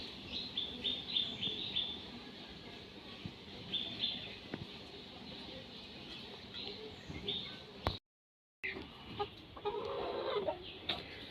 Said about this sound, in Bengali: আজকে প্রথম টাইগার মুরগি ডিম পারলো বুঝি মাশাল্লাহ